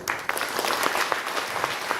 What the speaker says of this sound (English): we all want to welcome Dr. Garu with a loud applause from yourself